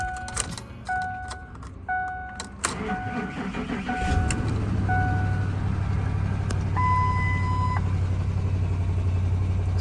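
A salvage pickup truck cranks over on a jump starter and catches, settling into a steady low idle that runs through the rest of the clip, with a warning chime sounding before and after the engine fires.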